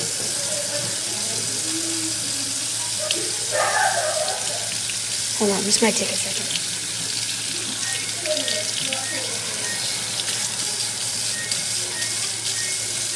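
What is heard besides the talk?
filling a cup with hot water from a tap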